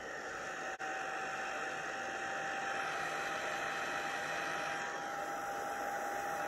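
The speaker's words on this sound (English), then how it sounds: "So then I'm going to move that around with my heat tool." A heat tool blows steadily on alcohol ink, a continuous close, loud airy whoosh with a faint motor whine that holds nearly unbroken, dipping briefly once near the start.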